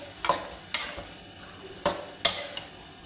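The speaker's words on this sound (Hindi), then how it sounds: "यहाँ पर हमने आलू इसके अंदर शामिल कर दिए हैं। एक दफ़ा इनको भी अच्छे से मिक्स करेंगे" Potatoes being stirred into minced meat in a pan, a utensil scraping and clattering in several distinct strokes close by over a faint sizzle, no voices.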